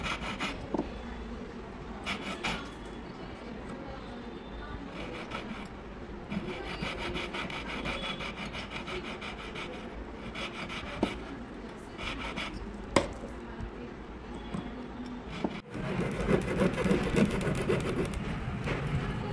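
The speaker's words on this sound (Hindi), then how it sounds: "जाली आरी कटिंग से करेंगे" Hand saw cutting a lattice pattern into a handmade 22k gold ring, a steady fine rasping scrape running continuously for the whole stretch, close up with no talk.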